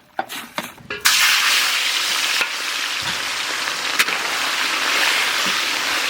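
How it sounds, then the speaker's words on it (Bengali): Dry red chillies, bay leaves and whole cumin hitting hot oil for a tempering of Bengali dal, a few sharp crackles and then a steady loud hiss of frying that carries on evenly. "আমরা এখন ডালে ফোড়ন দেবো। ফোড়নে নিয়ে নিচ্ছি গোটা শুকনো লঙ্কা, তেজপাতা, গোটা জিরে।"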